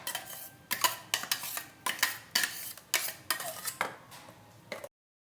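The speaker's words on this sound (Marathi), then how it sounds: "आपण ही आता एका गाळण्यामधून गाळून घ्यायची" A spice paste is pushed through a metal kitchen strainer with a spoon, giving about a dozen close, rhythmic scraping and clinking strokes before stopping abruptly.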